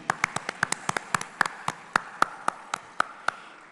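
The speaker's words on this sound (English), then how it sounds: "Round of applause for her as well, ladies and gentlemen" Sparse applause at a film festival opening ceremony: a small audience claps in distinct, separate hand claps, a dozen or more sharp slaps spaced irregularly and fairly close, with no voices.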